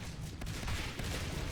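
Gunfire in the video game Natural Selection 2 crackles continuously as shotguns and other weapons fire near a tunnel, a dense, fairly loud rattle of overlapping shots with no talk.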